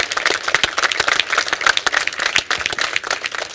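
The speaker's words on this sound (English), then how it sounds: "a really strong applause and congratulations." Scattered clapping from an audience at a corporate services session, fairly steady and moderately loud, with uneven individual claps rather than a roaring ovation, no voices over it.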